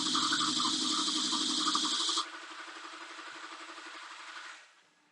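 A 2004.5 LLY Duramax diesel cranks without starting, with a loud, steady starter whir and engine churn at close range. The sound drops to a quieter hum partway through, then fades out.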